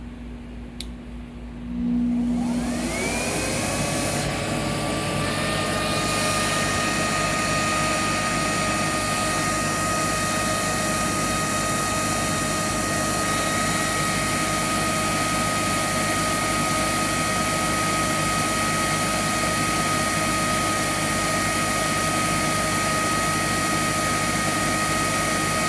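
Sebo X4 upright vacuum cleaner switches on and spins up to a loud, steady, high-pitched motor whine with rushing airflow, running close and alone for the rest of the stretch.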